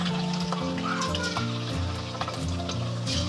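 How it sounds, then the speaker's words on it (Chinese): Pieces of pork tenderloin deep frying in hot oil over medium heat, a steady close bubbling hiss that keeps going without pause. "然后保持中火炸"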